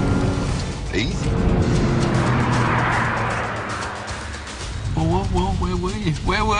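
An Audi TT and a BMW Z4 race on a damp track, engines roaring as the cars pass with brief tyre noise, while someone talks over the engine sound near the end.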